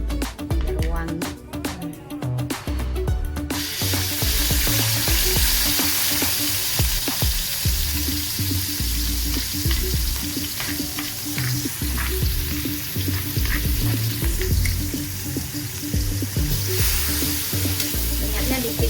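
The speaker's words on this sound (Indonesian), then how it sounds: "bumbunya udah panas, kita tumis dulu ya bu bumbunya" Spice paste for Padang-style chicken gulai sautés in a little oil, sizzling and frying loudly and steadily with stirring scrapes throughout, close up, with no talking.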